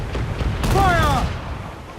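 Cannons booming in a ship battle in Assassin's Creed 4 Black Flag: dense, loud rumbling gunfire throughout, with a brief shouted voice over the roar in the middle.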